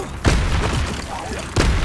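A spell cast in the Hogwarts Legacy video game lands as two sharp, loud magical bursts about a second apart. Each burst swells into a sustained, rumbling whoosh.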